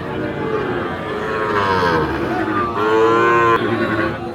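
Cattle low and moo repeatedly at a busy rural livestock market in Dinajpur where Sahiwal bulls and calves are sold, the calls loud and close, overlapping in long drawn-out tones.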